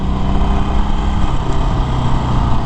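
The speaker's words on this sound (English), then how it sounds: "The exhaust is really quiet on this bike" A 2019 Harley-Davidson Forty-Eight Special motorcycle runs with a loud, continuous engine and exhaust drone. The tone is close and unbroken, with no speech.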